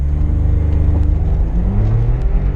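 A light 2003 Smart roadster coupé with a 60-horsepower engine in automatic mode accelerates hard, a loud close engine drone climbing in pitch with gear changes, tire noise mixed in, no talking.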